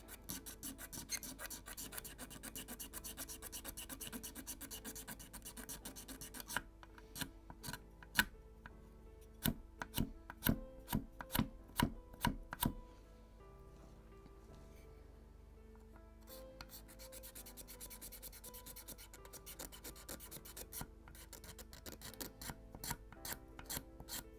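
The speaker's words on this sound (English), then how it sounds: "This plank is too low, this one is too tall, so that's why it is important to scrape it now." Blade scraping a wooden plank on the beakhead of a 1:76 scale Model Shipways Mayflower (1620) kit, a run of sharp rasping strokes in a steady rhythm, close and fairly loud, then quieter rubbing.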